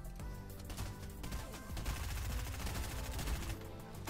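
Rapid automatic gunfire sprays in the video game Fortnite, dense overlapping bursts sounding continuously across a few seconds at moderate level, with no talking over it.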